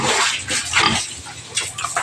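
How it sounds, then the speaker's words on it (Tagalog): A pig grunts close by in several short, rough bursts, snuffling and noisy, with faint splashing in the background. "Ang ingay ng baboy."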